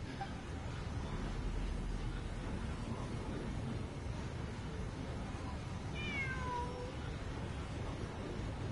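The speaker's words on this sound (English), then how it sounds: "we heard a cat" A cat meows once in a drawn-out, falling call, set well back against a steady hiss of wind or water noise in a ruins exploration event of the game Genshin Impact.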